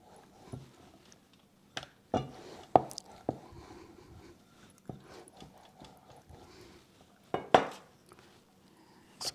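Dough for diamond cuts is sliced into diamond shapes on a kitchen surface, giving sparse, sharp knocks and scraping taps at irregular intervals against quiet background, with a few louder clacks.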